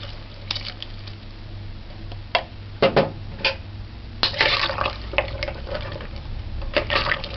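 Coconut milk poured into a simmering pot of pepperpot soup, with soft close splashes and wet squishy patters in uneven bursts over a quiet low hum.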